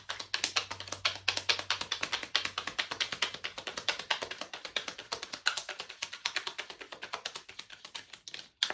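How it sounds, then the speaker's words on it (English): Tarot cards being shuffled by hand, a rapid run of close, crisp riffling taps and flicks that continues steadily with no talking. "This is also a nice shuffle."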